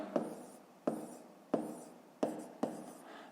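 A pen writes numbers on paper, five quiet scratching strokes spaced evenly about two-thirds of a second apart, each a short tap that fades quickly, close and alone.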